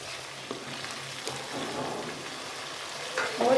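Lahori chickpeas roasting in a pan, a steady soft sizzle and crackle with faint scraping, close by and fairly quiet, no voices.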